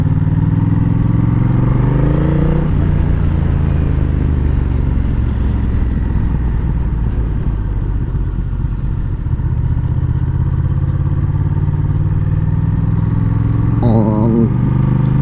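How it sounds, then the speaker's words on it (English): A 2025 Honda Rebel CMX1100 DCT motorcycle with a Stage 1 chiptune runs at low revs, giving a loud, close, steady low engine rumble that holds evenly throughout. "On low revs, the engine sound and engine behavior, the revs are smooth."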